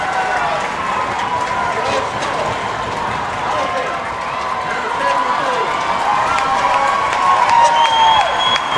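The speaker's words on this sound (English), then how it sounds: "that's the crowd noise coming into effect, that home field advantage for Richmond Randall" Home crowd at a Richmond Randle high school football game against Iowa Colony in the stands, a steady roar of cheering and shouting with a rising whistle near the end.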